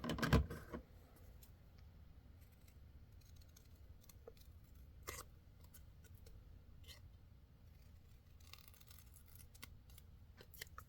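Scissors trim paper for a Valentine card, producing faint, sparse snips and crisp paper rustles close by in a quiet room.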